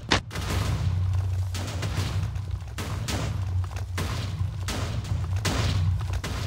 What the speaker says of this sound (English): Let's go on this platform and look at this explosion.